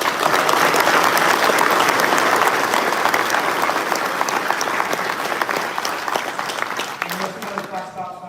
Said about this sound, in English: So round of applause, please, for all three.